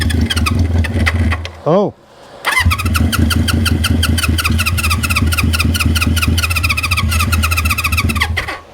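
A 1973 Honda CB350four motorcycle engine, carburetor likely clogged, cranks and catches roughly, sputtering and running loud and close with a brief gap near two seconds, before settling into a steady uneven idle; a man briefly exclaims.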